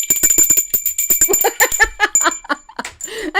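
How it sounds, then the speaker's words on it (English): A desk bell for summoning coffee rings with a clear chime that lingers for a couple of seconds while a person talks and laughs over it. "This bell says ring for coffee."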